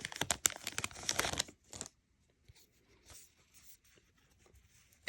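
A Mars Attacks! Uprising trading card pack wrapper is torn and crinkled open close up in a burst of sharp rustles. Quiet, sparse handling sounds follow.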